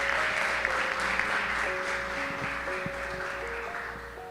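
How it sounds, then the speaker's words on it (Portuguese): A church congregation claps in sustained, dense applause, with a soft sustained keyboard tone ringing underneath before the clapping gradually thins out. "Dê uma salva de palmas para o nosso Senhor Jesus."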